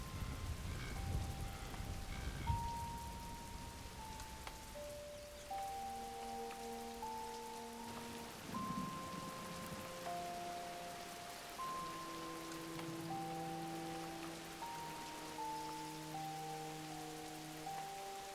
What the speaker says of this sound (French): tout le monde est pris dans l'averse soudaine.